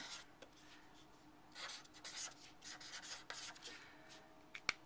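Faint, scratchy rubbing strokes of the broad tip of an embossing pen writing, heard close up in a quiet room as a series of short, uneven scrapes.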